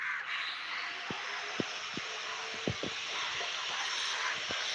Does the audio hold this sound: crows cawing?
yes